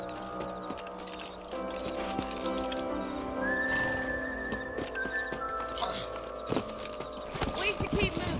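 Horse neighs and hoof sounds from the video game Red Dead Redemption mix with background music and effects, voices talking intermittently over the scene.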